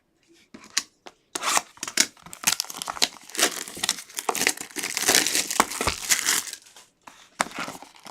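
Bowman baseball card packs being ripped open by hand: continuous crinkly tearing and crumpling of foil wrappers in close, loud bursts with short pauses between packs, and no talking.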